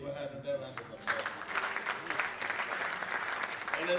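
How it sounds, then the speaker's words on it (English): An audience applauds at a mentorship event, a dense, steady round of clapping that swells after the first second and carries on to the end, with a voice audible briefly at the start. "let people have another round of applause"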